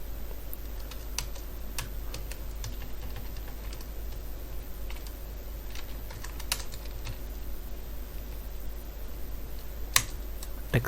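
Computer keyboard typing while coding an Android app, a steady run of quick, close, light key clicks with occasional sharper taps over a quiet background, no voices.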